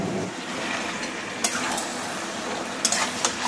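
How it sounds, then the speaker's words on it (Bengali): Mutton being stir-fried (kosha) for biryani in a busy home kitchen, a steady close sizzle with stirring scrapes and a couple of sharp utensil clinks against the pot. "মাটন, চলছে এখন কষানো"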